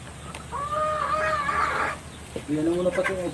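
Chickens cluck and call in a couple of loud bursts, close by, with some background noise between them.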